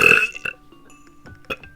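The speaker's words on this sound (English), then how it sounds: "the big continual burp." A big, drawn-out human burp opens loud and close, followed by a few shorter, weaker gulping burps trailing off.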